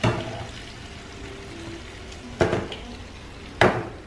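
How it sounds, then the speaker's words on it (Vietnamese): A pot of crab broth is set back on a stove amid quiet kitchen background noise, marked by two sharp metallic clanks about a second apart. "mình chuyển cái nồi nước cua mình nấu khi nãy lên bếp lại"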